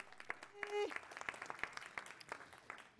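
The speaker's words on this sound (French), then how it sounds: "Qu'on applaudit, mesdames et messieurs." Light applause at a research forum, a few distinct claps rising over a murmuring room, with a brief tonal sound near the start and scattered voices underneath.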